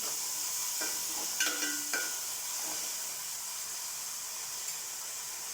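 Chopped ginger and green chili frying in a pan give a soft continuous sizzle, with a few clinks and scrapes of stirring early on, quiet and close with no talk.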